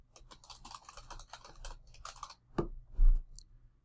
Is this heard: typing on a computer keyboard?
yes